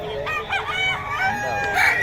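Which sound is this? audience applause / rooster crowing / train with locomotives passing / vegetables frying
rooster crowing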